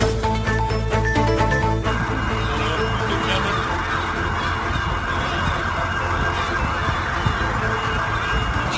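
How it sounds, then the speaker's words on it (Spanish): An emergency vehicle siren wails loudly on the streets of Glasgow, Scotland, in the early afternoon, shifting from a steady tone to a rapid warble against a busy street background. "Sonido de sirena, sonido de primera hora de la tarde en las calles de Glasgow, en Escocia"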